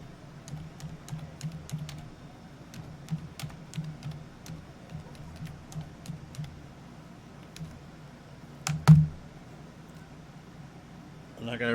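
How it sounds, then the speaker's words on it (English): Keys clatter on a computer keyboard in a steady run of quick, light clicks, with a louder thump or two near the end and faint background sound underneath. "Let me type something in the box here."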